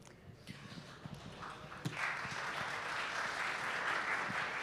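After a quiet, murmuring start, a full hall at an evening startup pitch competition breaks into steady clapping that swells about halfway through and continues to the end.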